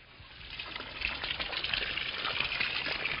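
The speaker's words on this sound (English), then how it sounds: "Fresh water down from the glaciers." Fresh glacier meltwater runs through a town in Italy's Valle d'Aosta near Gran Paradiso National Park, a steady close trickle and gush that swells slightly and continues without pause, with no voices.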